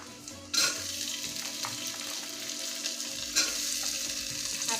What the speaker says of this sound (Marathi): आता याच्यामध्ये मी या सगळ्या भाज्या टाकून घेते.